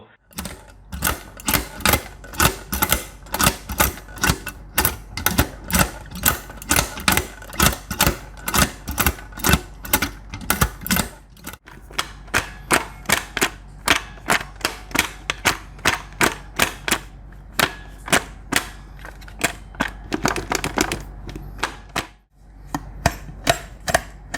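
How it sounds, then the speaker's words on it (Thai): A GGK sim racing gear shifter for PC is worked repeatedly, producing loud, sharp mechanical clicks in a fast steady rhythm. The clicking goes on for over twenty seconds, with two brief pauses. "เสียงการสับเกียร์เนี่ยมันมีเสียงที่ค่อนข้างดังนะครับ"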